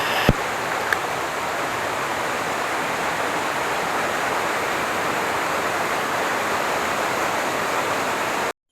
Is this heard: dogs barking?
no